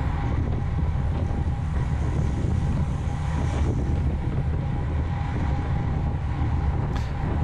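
Steady low wind rumble buffets the microphone on a bicycle riding a UFOLEP race circuit up a gentle false-flat climb into a headwind, with constant roaring noise throughout and no voices.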